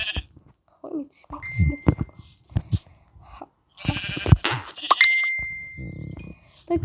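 A sheep in the video game Minecraft gives a few short bleats between bursts of a player's nearby speech, with small game clinks and chimes scattered through.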